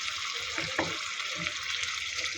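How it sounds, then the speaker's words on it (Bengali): Spice paste of ground cumin, coriander, chilli powder and salt with a splash of hot water being fried and stirred in a pan for egg korma, a steady close sizzle with a few soft scraping stirs. "মশলাটা খুব ভালো করে কষিয়ে নিব"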